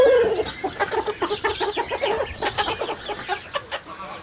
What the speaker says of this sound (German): Das ist auch eine Henne.